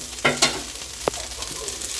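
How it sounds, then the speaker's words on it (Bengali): Nigella seeds and a few other seeds fry in simple oil in a wok, giving a faint steady sizzle with a couple of sharp stirring clinks near the start and a brief knock midway, no voices. "কড়াতে সিম্পল তেল দিয়েছি দিয়ে আর একটু পাঁচ কালো জিরে দিয়েছি"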